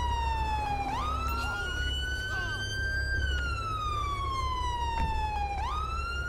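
A police siren in GTA 5 wails continuously, rising and falling in long sweeps over a low engine drone.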